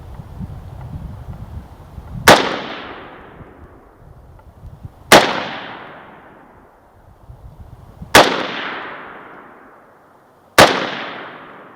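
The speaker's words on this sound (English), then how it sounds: "This time I'm going to shoot the top one." Romanian AK-74 rifle fired at targets outdoors, four sharp, loud single shots spaced a few seconds apart, each ringing off in a long decaying tail over quiet, low rumbling background.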